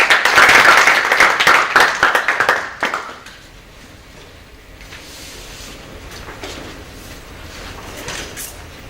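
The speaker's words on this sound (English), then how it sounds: "assistance in giving David a round of applause." Audience applause in a lecture hall for a speaker on reengagement with Iran, a short burst of clapping lasting about three seconds before fading into quiet room tone.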